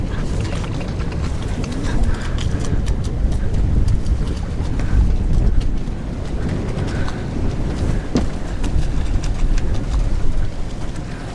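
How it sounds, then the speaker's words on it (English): Steady wind rushing past a microphone aboard a sailboat, continuous broadband roar with water noise underneath, no speech. "Så fik vi en lille vind igen."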